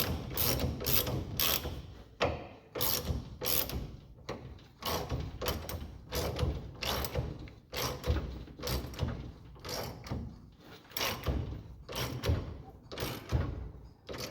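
Ratchet wrench tightening disc brake bolts on a bike, rapid close clicking strokes in repeated regular bursts with short pauses between them.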